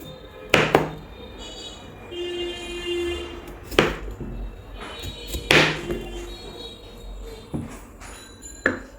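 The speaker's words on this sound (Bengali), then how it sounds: "এখন আমি আলুগুলো কেটে নিচ্ছি" Potatoes cut for a homestyle chicken curry: sharp knife chops on a board land in a sparse, irregular rhythm of about six distinct thunks, close and fairly crisp, with quiet kitchen background between strikes.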